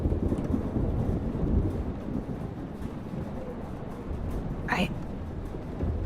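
Thunderstorm in the Life is Strange video game: a steady, heavy rumble of rain and low thunder fills the scene throughout, with one brief higher squeak near the end.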